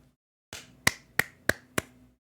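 A few slow, sparse golf claps during a baseball game reaction: five sharp, evenly spaced hand claps, fairly close and moderately loud, with nothing else around them.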